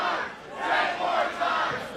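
An indoor crowd at a professional wrestling match roars and chants in steady, swelling waves, loud and continuous throughout with no clear single voice standing out.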